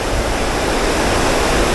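A small creek's current flows and rushes steadily, a loud, even wash of water up close with no voices or other sounds.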